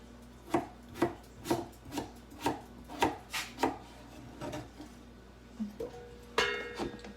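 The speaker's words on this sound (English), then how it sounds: "I'm just going to cut those carrots up real quick" A knife chopping carrots on a cutting board for beef stew, about ten crisp, evenly spaced cuts close by, followed by a few softer knocks and a brief clink.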